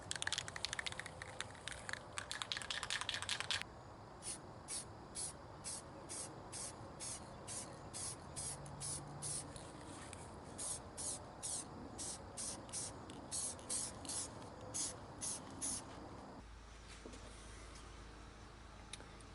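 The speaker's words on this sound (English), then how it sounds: "I'm just going to use this spray lacquer" A lacquer spray can hisses in a long burst, then in a rapid run of short, regular spurts, close and fairly loud, ending with a faint low hum after the spraying stops; applied to a maple hand plane tote in a workshop.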